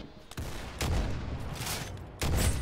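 Gunfire in the Roblox game Arsenal on the Sandtown map, several loud close bursts of rapid shots with a sustained rattling between them, heard alone.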